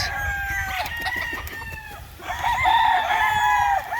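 Roosters crow at a game-fowl farm in Agusan del Sur, loud and close, one long crow following another over a noisy outdoor background.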